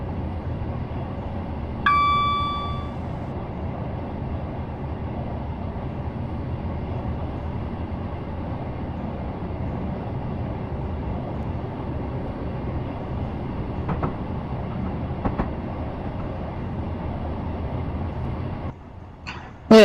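A train in the video game Train Simulator accelerates on the Portsmouth to Waterloo route, with a steady, continuous engine and rail rumble throughout, a short tonal beep early on and a few faint clicks.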